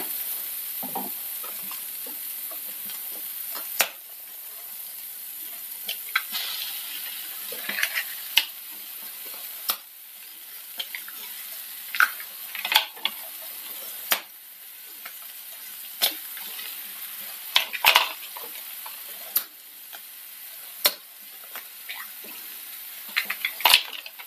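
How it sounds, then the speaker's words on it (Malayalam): Eggs being cooked and stirred into softened sautéed onions in a pan, a steady low sizzle with repeated sharp scraping clicks of a utensil against the pan at irregular intervals, with no talking. "സവാള നന്നായിട്ട് വാടിയിട്ടുണ്ട് ഇനി നമുക്കിതിലേക്ക് മുട്ട ഉടച്ച് ചേർക്കാം"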